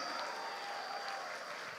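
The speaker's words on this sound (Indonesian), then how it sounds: "Mari kita berikan tepuk tangan untuk Hai Sawit." A seminar audience of students at a palm oil career talk gives a round of applause, a soft, continuous patter of many hands heard from a distance with a faint tonal hum behind it.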